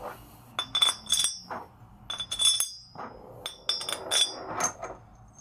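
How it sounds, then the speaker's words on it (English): Metal hub bolts clink together as they are gathered up during reassembly of an SR1 Super Hub on an axle, giving several bright, close metallic chinks in irregular bursts with no talking. "So what I usually do is grab the bolts,"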